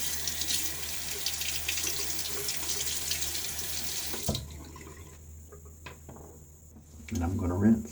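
Water runs steadily from a bathroom tap for rinsing after a shave, then cuts off, leaving quiet handling noises and a brief splash near the end.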